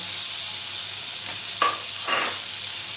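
Ground white mustard paste hits hot oil in a pan while cooking hilsa fish, giving a soft steady sizzle with a couple of brief louder hisses and stirring scrapes.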